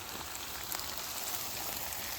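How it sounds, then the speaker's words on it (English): Steady, dense sizzling from paella in a large pan on a single camping burner, a continuous crackling hiss with no talking over it. "you can definitely hear sizzling"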